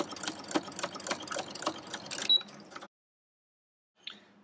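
A sewing machine with a walking foot stitches a quilt, its needle beating in a fast, even mechanical rhythm nearby, then stops abruptly, leaving silence broken by a faint click.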